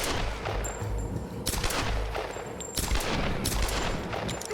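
Repeated gunfire in the 2013 Tomb Raider video game, loud bursts of shots in rapid succession with brief gaps, steady and close throughout.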